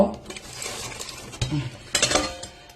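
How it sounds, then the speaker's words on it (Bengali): A wok is set down on a stove for frying koi fish in a home kitchen, with two sharp metallic clanks followed by light scraping and clattering of cookware at close range. "এই যে কড়াইটা হালকা করে এই যে বসালাম"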